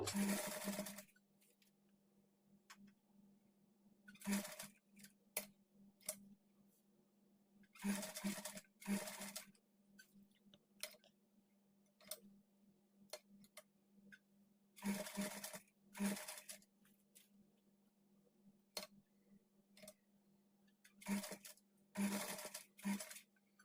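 A sewing machine stitches pieces around a blouse neck in short, repeated bursts of close, rattling running separated by quiet pauses, with a low steady hum underneath.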